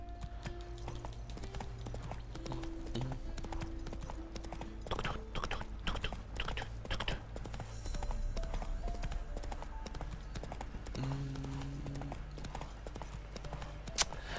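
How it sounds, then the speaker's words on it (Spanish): Horse hooves clip-clop steadily while riding in The Witcher video game, a rhythmic trot running the whole time beneath game music and ambient sounds. "Vamos a ir a caballo."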